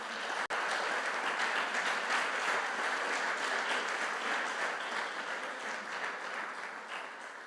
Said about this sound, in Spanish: ¿Cuánto puede darle un fuerte aplauso a Dios?